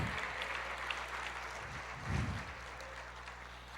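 A church congregation applauds during a sermon, a steady, moderately loud wash of clapping heard over a low background hum.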